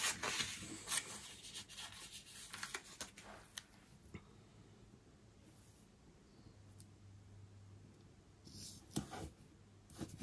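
A pen scratches and rubs across paper in a disc bound planner, soft and close, with short strokes and pauses and an occasional light tap, no voices.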